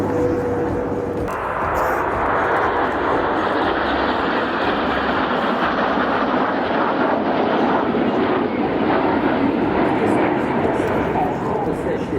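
Patrouille de France jets fly a display at the 2023 Paris Air Show at Le Bourget. A loud, sustained roar of jet engines sweeps overhead while an announcer talks over the public address.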